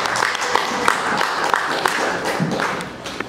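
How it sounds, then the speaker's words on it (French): A church congregation applauds and claps in praise during a French-language sermon, a steady wash of hand claps with some sharper taps, sustained throughout at moderate loudness. "Nous acclamons quand même le Seigneur."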